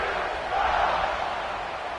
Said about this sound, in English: and this crowd now ready to get behind them